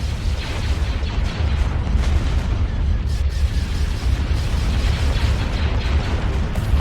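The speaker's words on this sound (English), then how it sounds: "Fire weapons!" Weapons fire and explosions from a Star Wars Empire at War space battle, a dense, continuous rumble of booming blasts and bursts with steady loud low-end roar throughout.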